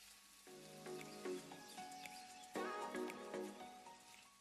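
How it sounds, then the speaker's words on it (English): Food for a tabbouleh salad sizzles in a hot pan on high heat, a steady frying crackle with bursts of spitting and hissing that swell and fade over a few seconds, close and fairly quiet, with no talk. "Listen to the sizzling sound."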